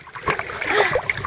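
A brief close splash of someone dipping their head into sea water off a sailboat, a short watery burst with a quick slosh.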